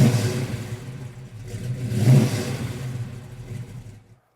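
A 1969 Chevrolet Camaro SS engine runs close by with a deep, throaty rumble and rises in a couple of revs before cutting off abruptly.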